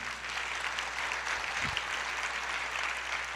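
A church congregation applauds during a Portuguese sermon, a faint, steady wash of distant clapping with a brief low thump partway through.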